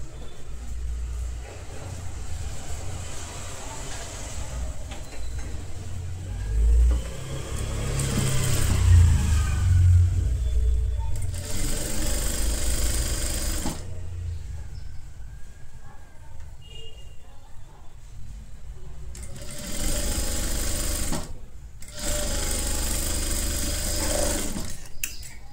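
A sewing machine stitching a straight half-inch seam on a halter neck blouse's main fabric and lining, running in steady bursts of motor whir with brief pauses between them.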